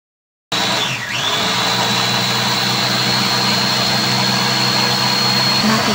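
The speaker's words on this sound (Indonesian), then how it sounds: "Hidupkan blender." A blender runs steadily while blending corn juice made with water and dissolved cornstarch, a constant motor whine with a steady low hum after a short spin-up, close and loud, with no voices.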